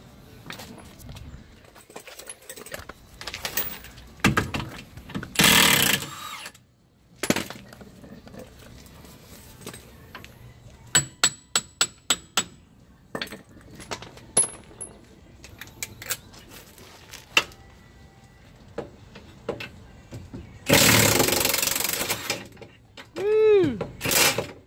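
Bolts are removed while stripping the AWD driveline from a donor Honda CR-V, with loud bursts of a power tool, sharp metallic clicks and clanks in between, and people speaking at times.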